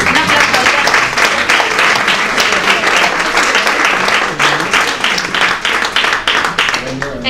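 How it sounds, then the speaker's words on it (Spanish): An audience at a photo rally award ceremony in Villa de Murchante breaks into loud, sustained applause, with dense overlapping claps continuing for several seconds before thinning out slightly near the end. "Un aplauso."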